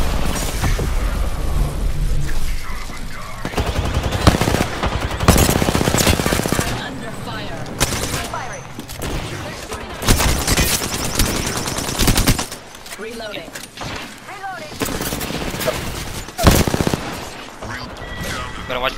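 Sustained automatic gunfire in the battle royale shooter Apex Legends, with dense rapid bursts and heavy volleys filling the scene, loud and close, while players talk over the combat.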